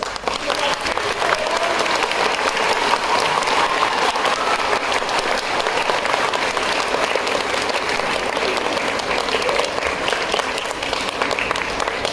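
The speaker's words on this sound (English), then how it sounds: "A huge round of applause for our incredible students." Sustained audience applause fills a school concert hall for student performers, dense and steady clapping throughout with some crowd noise mixed in.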